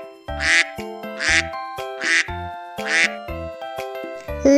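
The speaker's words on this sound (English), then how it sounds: "Duck." A duck quacking in a kids' animal puzzle game, five loud, evenly spaced nasal quacks in a steady rhythm followed by a brief different sound at the end, with no talking.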